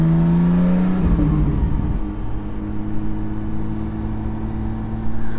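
A Porsche 718 GT4 fitted with a Soul Performance rear exhaust section revs up, drops through a shift, then settles into a steady, fairly loud engine drone heard from inside the car.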